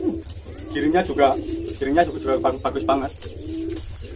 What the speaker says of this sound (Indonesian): Yang pertama burung gemuk, yang kedua itu burung tritis batu.